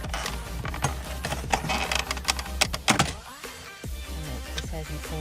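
Plastic interior trim pried off around the factory radio of a 2013 or later Mazda CX-5, giving a busy run of close clicks, snaps and rattling plastic knocks with a sharper pop near the middle, no talking.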